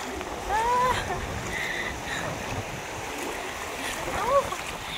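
Sea waves wash onto a beach at sunset in a steady, soft broadband hiss of surf, with a few faint whistling calls rising above the wash.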